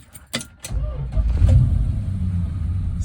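A 1965 Chrysler 300L V8 cranks over with a few quick clicks, catches, and settles into a steady, close-up rumbling idle that holds to the end.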